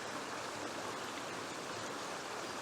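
Brook water flowing on Dartmoor near Horse Ford Cross, a steady, full rushing and babbling heard close by and alone, constant in level with no voices.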